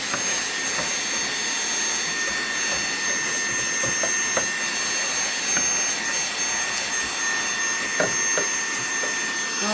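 A small handheld car vacuum cleaner drones continuously at close range while cleaning the fume extraction fan of an xTool S1 laser engraver, with occasional light clicks and knocks.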